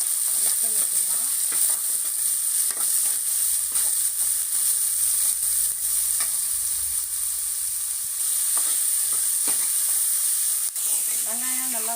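Onions, green chili and spices sauté in a pan for egg curry, a steady bright sizzle with intermittent scraping stirs, close and continuous, with a brief voice at the end.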